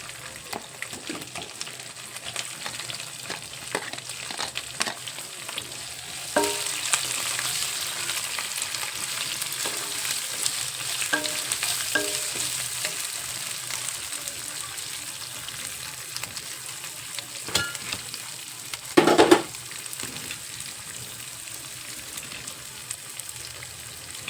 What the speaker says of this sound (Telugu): ఇప్పుడు ఉల్లిపాయలు వేద్దాం